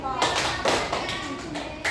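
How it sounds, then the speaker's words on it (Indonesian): A group of students in a classroom clap in a few short sharp bursts, close and distinct, with children's voices and a teacher speaking around them. "Kelompok C tepuk 3 kali."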